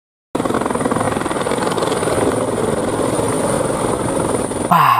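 A toy helicopter's whirring rotor buzzes steadily and loudly up close, starting after a brief silence and ending with a short rattling handling noise.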